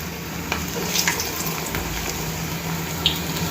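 Green gram pakodi batter fries in hot oil with a constant close sizzle and bubbling, broken by a few small clinks and taps.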